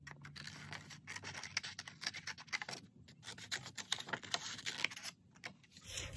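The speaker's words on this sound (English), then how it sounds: "what I'm going to do first is to do a rough cut of the image that I want" Scissors rough-cut an image out of paper cardstock for a Stampin' Up dragonfly garden pop-up card, a close, continuous run of small snipping and rubbing scratches with no talk.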